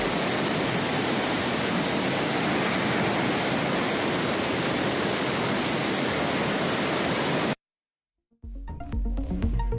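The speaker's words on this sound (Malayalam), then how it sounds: "ചൂരൽമല പുന്നപ്പുഴയിൽ നീരൊഴുക്ക് ശക്തം." The swollen Punnappuzha river at Chooralmala, Wayanad, churns and rushes strongly after heavy rain, a loud, steady roar of fast muddy water near the Bailey bridge, cutting off abruptly before brief unrelated sounds.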